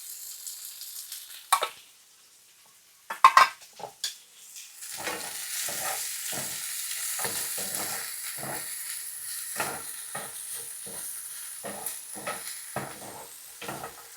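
Onions, ginger, garlic and chili flakes frying in a pan for fried rice, a steady close sizzle with hiss running under repeated stirring scrapes and a few sharp clatters early on.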